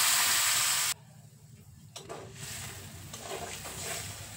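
About two cups of water hit crab frying in spices in a hot pan, raising a loud, hissing sizzle for about a second that drops abruptly to a quieter, crackling simmer that slowly builds again.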